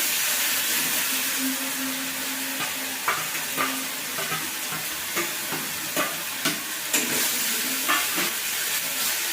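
A large onion with a little salt fries in a pan, making a continuous bright sizzle broken by repeated scraping knocks of stirring, close and with no talk.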